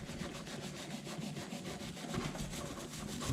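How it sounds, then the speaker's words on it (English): A harsh steel brush scraping the top of a BMW N52 engine piston, producing a continuous rough rasping scrub with rhythmic strokes, close and steady, no talk. "we're scraping the top of the piston with the harsher steel brush"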